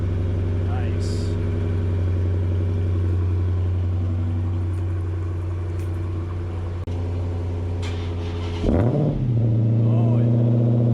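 Supercharged 2016 Dodge Hellcat Charger V8 on a cold start, a loud, deep, steady idle rumble close by that flares into a brief rev near the end before settling again.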